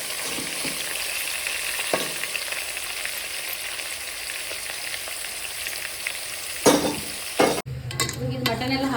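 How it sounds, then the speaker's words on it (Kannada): Mutton fries in its own rendered fat and oil, holding a steady loud sizzle throughout. Near the end a spoon clanks against the pot and the frying changes as more meat is stirred in. "ಇವಾಗ ನೋಡ್ರಿ, ಇದು ಎಲ್ಲ ಮಟನ್ ಚರ್ಬಿ ಎಣ್ಣೆ ಬಿಟ್ಟೈತಿ. ಈಗ ಇದಕ್ಕೆ ನಾವು ಮಿಕ್ಸ್ ಮಾಡಿ ಇಟ್ಕೊಂಡಿದ್ವಲ್ಲ, ಈಗ ಮಟನ್ ಹಾಕೋಣ."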